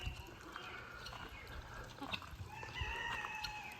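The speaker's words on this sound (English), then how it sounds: "Well, looky there. We got some birds." Chickens on a farm cluck and crow faintly in the background, with a few short calls over steady outdoor ambience.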